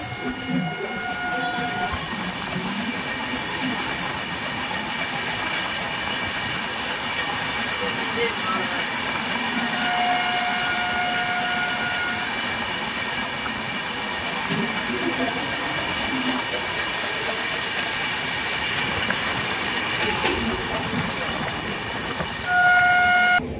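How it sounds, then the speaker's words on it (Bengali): The Howrah to Ranchi Intercity Superfast Express runs along the rails with a steady, loud rumble and rolling wheel clatter. Sustained horn tones sound now and then over the continuous travel noise. "সামনে থেকে হেডলাইট চালিয়ে আসছে ট্রেন নাম্বার 1244 হলদিয়া সুপারফাস্ট এক্সপ্রেস"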